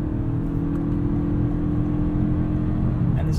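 A 2022 Toyota Camry Hybrid's 2.5 liter engine accelerates with a steady, smooth mid-pitched whir and drone heard from inside the car, holding an even level for a few seconds with no talking.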